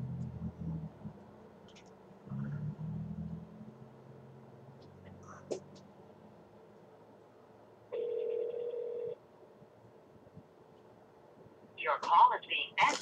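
A telephone rings while a call is transferred to an extension, with a couple of ringback tones and a steady tone on the line between stretches of quiet and a burst of noise at the end.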